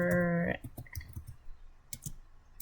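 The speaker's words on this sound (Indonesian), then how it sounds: "di sini saya akan ketikkan user" Keys clack on a computer keyboard as a command is typed, a short series of close, crisp clicks in uneven rhythm following a brief tonal chime at the start.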